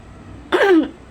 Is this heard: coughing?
yes